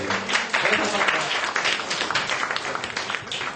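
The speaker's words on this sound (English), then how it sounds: "can you give a waiting and big round of applause?" Applause from the audience at a book launch event, a dense, steady wash of many hands clapping together for a few seconds, fairly loud and continuous.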